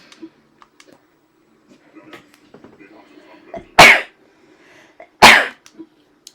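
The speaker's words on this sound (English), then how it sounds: "I'm going to sneeze again." Two sharp, loud sneezes about a second and a half apart, with soft quiet movement sounds before them.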